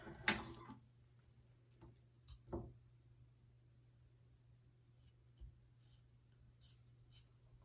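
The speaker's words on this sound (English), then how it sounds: "these scissors are dull, huh? I should have brought my fabric scissors." A few sharp snips of dull craft scissors cutting a fabric swatch, spaced irregularly, near and fairly quiet, over a low steady hum.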